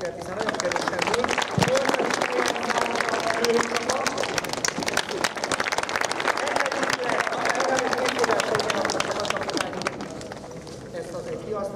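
A crowd applauds at the prize-giving of a youth under-10 winter football cup, with dense, continuous clapping that lasts about twelve seconds and some murmuring voices underneath.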